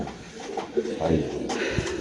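A pair of racer pigeons, a cock and a hen, coo in low throaty bursts, close by, with background chatter at a pigeon sale.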